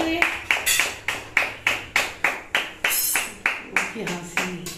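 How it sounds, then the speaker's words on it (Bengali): Hands clap in a steady, even rhythm at a home birthday celebration, about a dozen sharp claps close by, with voices chattering in the background. "হাততালি, হাততালি, হাততালি"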